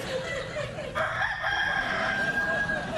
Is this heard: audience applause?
no